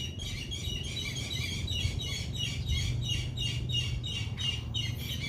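Birds near the lighthouse on Malapascua Island, Cebu, chirp in quick repeated bursts at a steady rhythm, fairly faint over a low background hum.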